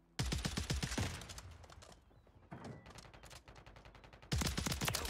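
Rapid bursts of HRM 9 submachine gun fire in Warzone 3 on Rebirth Island, loud close volleys at the start and end with quieter, more distant shots in between.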